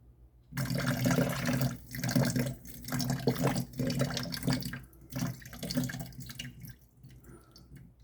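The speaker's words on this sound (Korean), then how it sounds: "우선은 식초를 뿌려 볼게요" Vinegar sprayed into a kitchen sink drain makes a steady, close rush of splashing liquid that swells and dips for several seconds before tapering off near the end.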